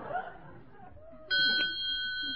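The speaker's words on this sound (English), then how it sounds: "It rings a bell every time an egg is laid." On an old-time radio comedy show, a small bell on an automatic egg-counting device gives a clear ding after some soft chuckling, its ring lingering briefly.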